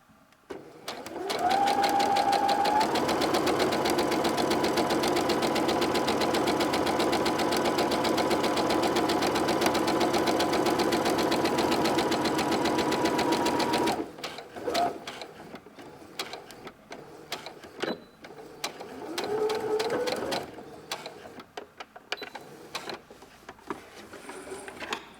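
Sewing machine stitching a tote bag, a long continuous close run of rapid stitching, then short bursts for backstitching with pauses between them.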